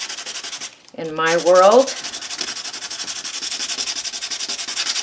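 Steady rhythmic sanding of dried texture paste, a dry scratchy rubbing that repeats in quick even strokes, close up; a voice speaks briefly near the start.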